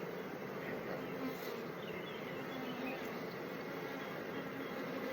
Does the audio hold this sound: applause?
no